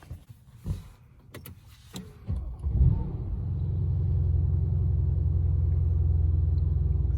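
A Mercedes-AMG C63 S rumbling while driving, a few knocks and a window sound first, then a steady loud low engine drone that swells and holds from inside the car.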